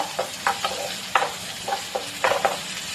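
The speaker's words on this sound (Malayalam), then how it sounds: "ചെറുതായിട്ടൊന്ന് വഴറ്റി കൊടുക്കാം. അതിന്റെ കൂട്ടത്തിൽ ഞാൻ ക്യാരറ്റ് ഇട്ട് കൊടുക്കണേ." Chopped beans, carrot and green chillies sizzle steadily in a hot pan while a spoon stirs them, making quick scraping strokes in an irregular rhythm, close and clear, with no talking.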